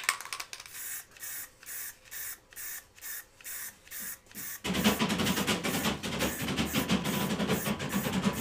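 Ebonizing lacquer sprayed from an aerosol can onto a textured base: a run of short, regular hissing bursts with brief gaps, then one long continuous spray, close and loud with no talking.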